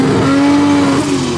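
A loud, close engine note from a Lamborghini Huracan and a wide-body Toyota Supra racing at a car meet holds a steady drone, then its pitch shifts briefly as they pass.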